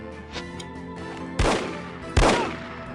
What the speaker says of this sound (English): Look out for the bullets!